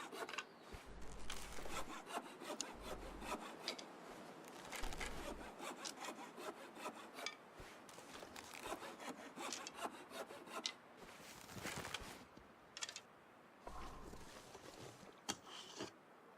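A hacksaw cutting through material in the survival game The Long Dark, with repeated back-and-forth rasping strokes in uneven bursts, fairly close and steady throughout, no speech.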